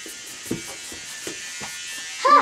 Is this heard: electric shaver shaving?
yes